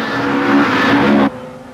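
Rally car at the 1987 Ulster Rally, its engine troubled, roaring loud and steady close by with a harsh, strained tone, then cutting off abruptly into a quieter rumble.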